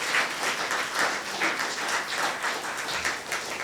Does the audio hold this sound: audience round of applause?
yes